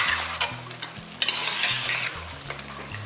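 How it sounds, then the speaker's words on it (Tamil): Chicken coated in chili spice stirred in a hot frying pan for a chicken gravy, with a steady sizzle and repeated scraping of a utensil against the pan, close and fairly loud, with no talking. "இந்த காரம் ஃபுல்லாக இந்த சிக்கன் ஃபுல்லாக நல்லா உரைக்கிற மாதிரி நல்லா கலந்து விட்டுருவோம்"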